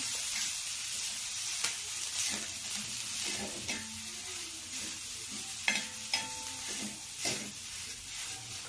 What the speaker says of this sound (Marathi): कोथिंबीर घालून व्यवस्थित मिक्स करून घेऊया.